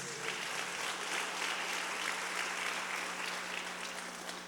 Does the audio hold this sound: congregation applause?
yes